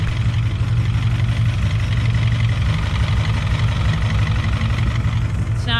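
A Honda CRX Si engine idles steadily after an ignition timing adjustment, a constant low rumble close by, with no talk over it.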